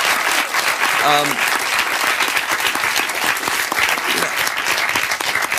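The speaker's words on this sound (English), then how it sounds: "Give a round of applause to the young people who he's helping every day." An audience at a town hall with a former California Governor breaks into loud, sustained applause for young people, steady and dense throughout while a voice speaks briefly over it.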